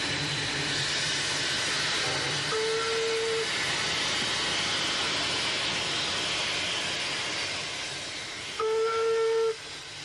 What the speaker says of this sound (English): we announce ourselves with a fanfare of steam